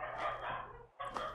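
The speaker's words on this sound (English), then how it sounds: "Dog is a barking." A dog in the survival video game Arid barks a few times in quick bursts, close and fairly loud over a steady ambient game background, with no one talking.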